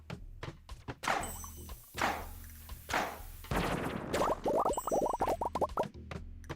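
Cherry bombs in Stardew Valley's Skull Cavern, with an expanded blast radius, set off a chain reaction. A few dull thunks come first, then a rapid burst of crackling pops in quick succession, fairly quiet overall.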